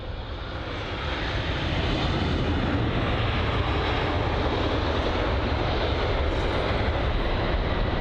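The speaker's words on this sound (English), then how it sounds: "Look at how hard that touchdown was." A Boeing 777 jet touches down hard on the runway at London Heathrow, a loud, steady engine roar that swells in the first second and holds broad and sustained throughout, with no voices.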